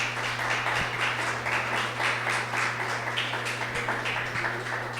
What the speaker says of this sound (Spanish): Dale una ofrenda de aplausos al Señor.